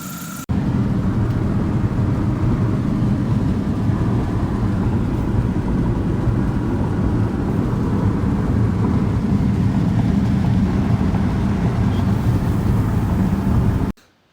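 A 2004 Mini Cooper, just back from engine repair, drives with its motor running. A steady, loud, low rumble of engine and road noise fills nearly the whole stretch and cuts off abruptly at the end.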